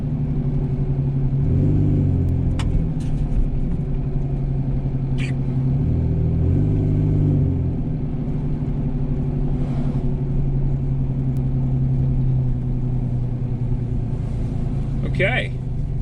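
A small sport truck's engine droning steadily during a test drive, low rumble with a few rises in revs, close and continuous with brief clicks and a short squeal near the end.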